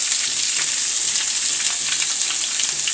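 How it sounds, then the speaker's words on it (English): Vegetables sizzling in a hot skillet where chicken was cooked, a steady bright crackling hiss throughout, close and fairly loud, with no talking. "I'm going to bring those veggies over and drop them right down into the same skillet"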